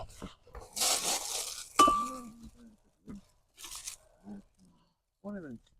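A plate being handled while dumpster diving, giving brief crunching and clinking knocks between scattered voices talking nearby, with a couple of short ringing chinks.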